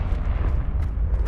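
Confringo, an explosive fire spell cast in Hogwarts Legacy, lets out a dense, loud blast with a heavy low rumble, followed by bright crackling bursts near the end.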